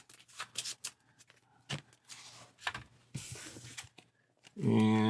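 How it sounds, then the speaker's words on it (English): Cards from a Marvel Champions deck being shuffled by hand during a solo tabletop game, quick bursts of riffling and sliding in uneven clusters, close and fairly quiet, ending in a louder tonal sound. "a quick shuffle."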